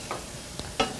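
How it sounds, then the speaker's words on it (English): Onions and garlic sizzle with bacon in a pan while being stirred, giving a low frying hiss broken by two or three quick scraping stirs close by. "I just added some onions and some garlic to this bacon here, and I have. I'm going to stir it up"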